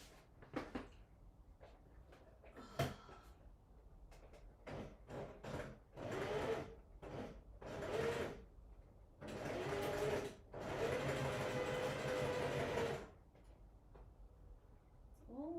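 A sewing machine stitches a holiday Christmas party dress alteration, running in repeated close bursts of mechanical whirring and ticking, some brief and some sustained for several seconds, with quiet pauses between runs.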